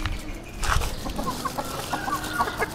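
Chickens cluck in short repeated calls across a farmyard, with a steady bed of low background noise and no talking.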